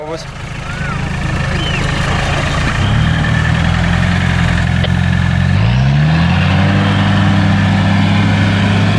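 An off-road Niva's engine idles with a deep, steady rumble that shifts pitch slightly as revs change, loud and close, under some speech, while being tested at low revs on a hill.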